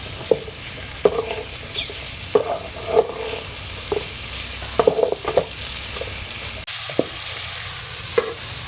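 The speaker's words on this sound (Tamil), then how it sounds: "அவரைக்காய் எல்லா அவரைக்காயும் போட்டு ஒரு கிண்டு கிண்டிகிட்டே இருக்கலாம்" Broad beans (avarakkai) sauté in a pan with a soft background sizzle, broken by repeated scraping stirs and spoon clatter in irregular bursts, close and fairly loud.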